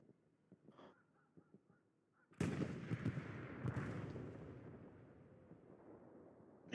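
A Sherman tank's main gun fires with a sudden loud blast in the World War II shooter Hell Let Loose, its rumbling reverberation trailing off over several seconds after brief faint sounds beforehand.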